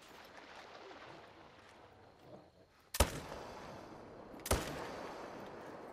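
Two sharp shotgun blasts about a second and a half apart, close and loud, ring out over low ambient outdoor noise during a hunting session in the video game The Hunter: Call of the Wild.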